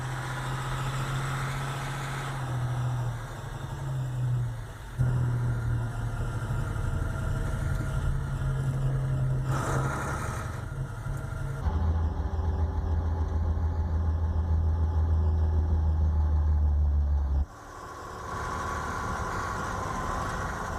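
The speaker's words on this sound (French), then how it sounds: "Un second camion Faune se range aux côtés du premier." A Faun military truck's heavy engine idles and revs as it manoeuvres alongside another truck, a steady low rumble that rises in pitch and loudness for several seconds mid-clip before settling back to idle; no speech.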